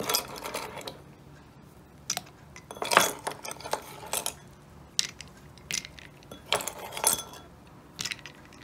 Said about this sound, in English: Drop some ice cubes in there.